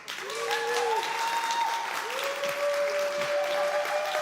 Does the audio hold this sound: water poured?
no